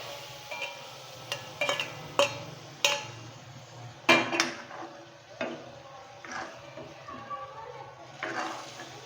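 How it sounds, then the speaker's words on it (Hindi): Fish pieces go into fried masala in a karahi, giving a low sizzle broken by sharp metallic clinks and scrapes of utensils against the pan, with several louder knocks spread through the stretch. "तो अब इसमें हम मच्छी ऐड करेंगे।"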